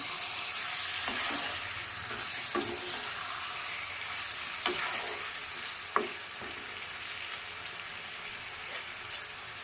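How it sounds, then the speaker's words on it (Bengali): Mutton marinated with salt, turmeric, mustard oil and bay leaf is stirred into spice paste frying in a pan, giving a steady sizzle with occasional spoon scrapes and knocks, no voices. "এইদিকে যে খাসির মাংসটা আমি লবণ হলুদ সর্ষের তেল তেজপাতা দিয়ে মাখিয়ে নিয়েছিলাম এটা এবার এর মধ্যে দিয়ে দেব ভালো করে নেড়ে দেবো"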